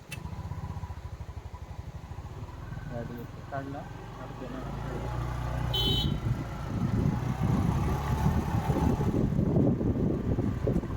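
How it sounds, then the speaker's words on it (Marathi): A car arrives at a Ganeshotsav family gathering in Shivapur, its engine rumble growing louder as it approaches, while people talk over it. "कार आली आहे"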